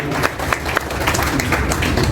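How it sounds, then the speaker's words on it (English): An audience at a school prize distribution ceremony claps warmly, with dense, fairly loud applause that runs from start to end and has faint voices mixed in. "A big round of applause for her."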